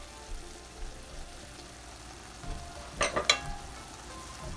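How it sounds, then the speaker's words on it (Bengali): Chepa shutki, a dried fish, fries with a soft steady sizzle in a pan, broken by a few brief scraping stirs near the middle. "আমি ঢাকনাটা উঠিয়ে একটু নাড়াচাড়া করে দিচ্ছি"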